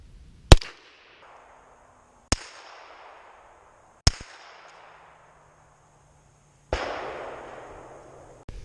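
Four sharp, loud shots from a PSA AKV 9mm pistol at an outdoor range, spaced a couple of seconds apart, each followed by a quick decaying echo, with no talk.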